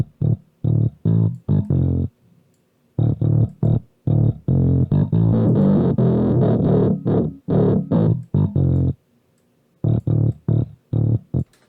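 A bass plugin played with overdrive distortion at a low gain setting, giving a gritty tone: short plucked notes in rhythmic phrases, some held longer, loud and close with gaps of silence between runs.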